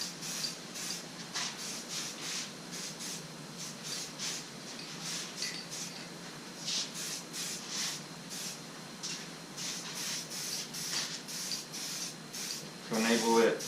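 Light coat of spray paint applied to a faded R50 Mini Cooper door panel handle, a series of short close hissing bursts repeating in quick succession at a quiet level.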